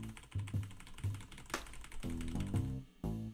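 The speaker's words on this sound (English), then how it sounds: "And just smash your keyboard." Computer keyboard keys are pressed in quick irregular bursts of close, crisp clicks and clatters, with short pauses between flurries of typing.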